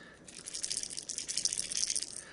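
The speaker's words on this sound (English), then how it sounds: "It's got a kind of a light rattle to it." A crankbait fishing lure with two small BBs inside, shaken to produce a light, continuous rattling that runs steadily through the whole moment, close and fairly quiet with no talking.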